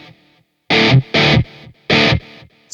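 Smart guitar played through a delay effect: three loud strummed chords with distinct gaps, each followed by fainter repeating echoes trailing off.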